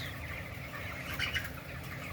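Chickens on a small poultry farm, recently treated for colds, make a steady low murmur of clucking with a few brighter calls near the middle, fairly faint and continuous with no talking.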